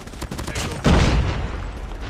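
Rapid gunfire from a Swordfish burst rifle in a Call of Duty-style shooter, a dense run of shots with a louder, heavier burst near the middle, close and continuous for about two seconds.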